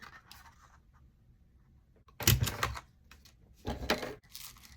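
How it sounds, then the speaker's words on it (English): Paper tags being punched with a hole punch, two sharp bursts about a second and a half apart, close and fairly loud against a quiet room. "I'm going to add a couple of holes to the tags I already made."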